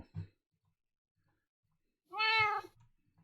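A cat meows once in the Minecraft video game, a clear, fairly loud call on its own. A soft brief sound comes earlier, then quiet.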